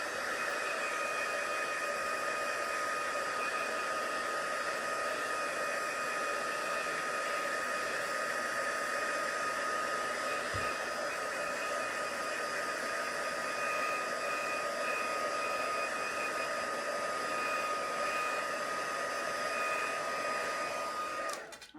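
A hair dryer blowing to dry a wet puddle of paint on a painted door tag, a steady loud whirring hiss that runs without a break and cuts off at the end, no talking.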